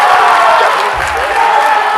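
An audience at a high school choral holiday concert claps together to vote for a song, a steady wash of applause that holds at an even level for the full two seconds.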